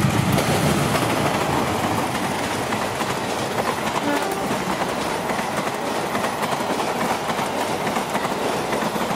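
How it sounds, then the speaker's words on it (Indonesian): Loud, continuous rumble of the Walahar Express passenger train rolling into Karawang station, Indonesia, with rhythmic wheel clatter on the rails and a brief horn-like tone partway through. "kedatangan kereta api Walahar Express 387A. Masuk stasiun Karawang terlambat 11 menit"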